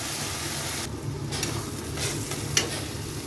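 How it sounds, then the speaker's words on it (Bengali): Spice masala for a spicy crab curry sautéing in a pan, a close steady sizzle with light scraping stirs and one small knock near the end; no speech. "মশলাটা খুব ভালো মতো কষাতে হবে।"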